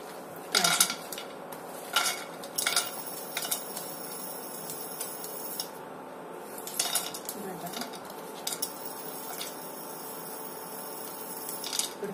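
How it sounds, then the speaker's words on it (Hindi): Dry fruits, pistachios among them, roasting in melted ghee in a pan for moong dal halwa, with a spoon clinking and scraping against the metal in irregular bursts over a low steady background. "अब हम इसमें ड्राई फ्रूट्स अच्छे से रोस्ट करेंगे।"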